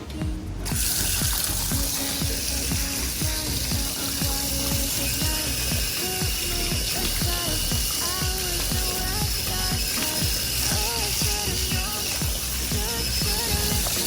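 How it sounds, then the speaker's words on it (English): Water running from a tap for washing feet outside a room at the Fihalhohi Island Resort in the Maldives, a loud close splashing stream mixed with rapid clicking and rattling throughout. "Every room they have their own faucet where you can wash your feet before entering the room."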